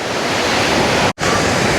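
Surf pounds the shore at Kuta beach in Bali: loud, unbroken wave noise mixed with wind buffeting, cut by a sudden short gap midway.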